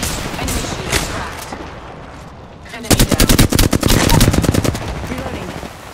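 Rapid automatic gunfire from the video game Apex Legends, a few scattered shots followed by a loud sustained burst of evenly spaced rounds, close and dominant with other game sounds beneath.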